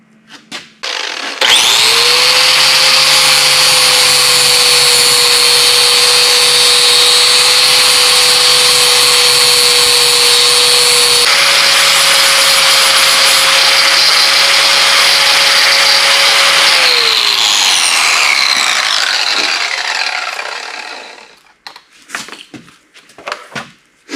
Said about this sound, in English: So I'm going to clean the rust out.